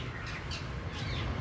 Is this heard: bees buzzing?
no